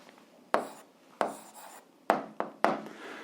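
A pen writing on paper up close, heard as five or six sharp scratching strokes spaced irregularly, each quickly fading, in a quiet room.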